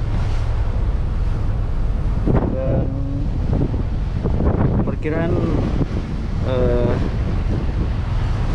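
A north wind buffets the microphone aboard a ferry at sea nearing harbour, a constant rumbling roar with wave wash beneath and brief speech over it.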